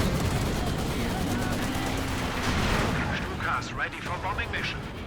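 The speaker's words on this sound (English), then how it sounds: "First big tank engagement." Tank battle in Company of Heroes 2: a dense, loud barrage of cannon and gunfire rumbling continuously, with a voice talking over it.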